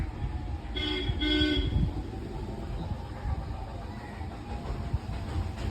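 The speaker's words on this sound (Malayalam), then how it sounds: "വണ്ടി ഹോൺ അടിച്ച" A vehicle horn gives two short honks in quick succession, fairly close, then quiet street background.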